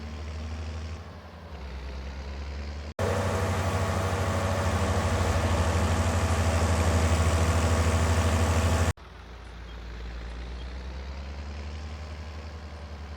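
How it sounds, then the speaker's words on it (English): A tractor engine idles on a farm with a low, steady drone; in the middle stretch it swells much louder and fuller, as if revving or the cab door opening, then drops back to a quieter, even hum. No one speaks. "So now I have to make my way to the field with this tractor."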